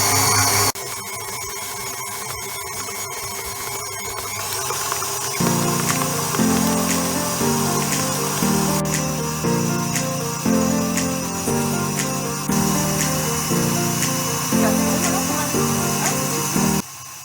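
Stand mixer whipping fat-free vanilla cupcake batter, a steady motor whir with a rhythmic pulsing beat from the beater, loud and continuous throughout.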